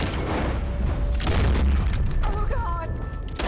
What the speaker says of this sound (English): Oh shit, he shot.